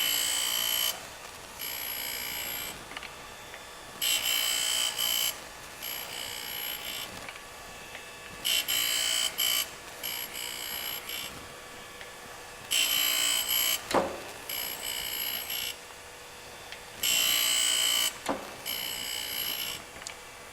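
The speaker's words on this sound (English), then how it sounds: "We'll go ahead and keep grinding a little bit here." An Eisen 618B precision surface grinder with a permanent magnetic chuck works a piece in repeated passes, a bright hissing whine rising and cutting off in regular bursts over a constant motor hum.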